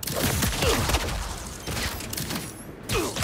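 Gunfire in the Spider-Man 2 video game at Coney Island, a busy burst of shots and clatter layered with game effects and music, loud and continuous throughout.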